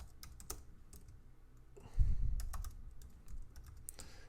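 Quick clicking keystrokes on a computer keyboard, irregular bursts of close taps with a soft thump midway, alone without talk.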